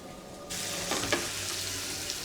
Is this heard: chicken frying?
yes